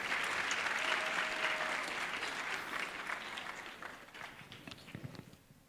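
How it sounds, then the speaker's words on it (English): An audience at a memorial lecture claps in dense applause that is strongest at first and then thins gradually into scattered individual claps before fading out, with faint crowd murmur underneath. "Let's give her a round of applause."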